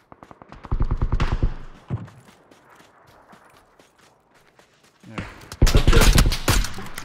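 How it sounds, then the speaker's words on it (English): Rapid bursts of automatic gunfire crack loudly in PUBG, one volley near the start and a louder, denser one toward the end, with quieter scattered shots and movement between. "someone shooting at me"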